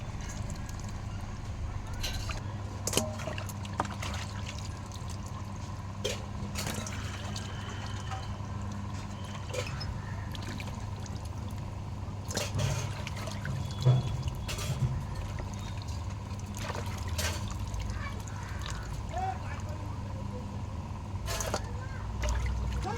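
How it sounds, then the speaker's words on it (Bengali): Water is poured and splashes over large fish being washed by hand, a soft ongoing trickle and slosh with a few louder splashes, while a voice talks faintly underneath. "এবার ঢেলে দিচ্ছি, আর একবার ধুয়ে নেবো"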